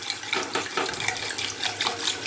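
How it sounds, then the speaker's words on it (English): Milk streams quickly into a pan of roux for chicken lasagna, a steady close-up splashing pour that runs continuously for a couple of seconds. "I'm just going to go ahead and pour the milk in real fast"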